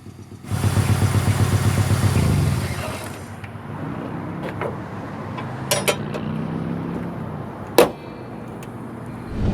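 1998 Ford Ranger XLT extended cab with the 2.5 Lima four-cylinder, running with a misfire; a loud revving engine settles into a lower uneven drone, with a few sharp knocks and a brief louder burst near the end, no talk.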